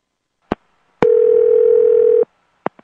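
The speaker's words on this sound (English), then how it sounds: "This is confirmed by the sound of a dial tone." A landline telephone dial tone plays as a steady, loud hum for just over a second. Sharp single clicks come before it and two more clicks follow after it.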